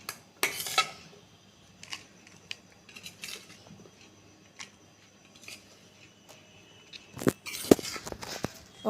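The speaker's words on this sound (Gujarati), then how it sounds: "હવે આપણે આ બધી વસ્તુને આ રીતે હલાવી લઈશું." A spoon clatters and scrapes around a bowl as a salad mixture for masala papad cones is stirred, giving scattered sharp clinks and taps with quiet gaps, close by and fairly soft.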